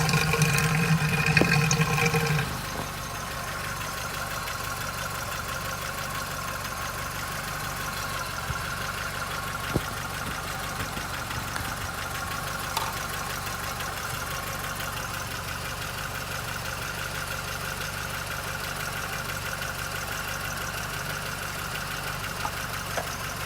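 A steady low car engine idle hums evenly throughout, fairly quiet, with a brief louder burst of noise at the very start, after timing belt work.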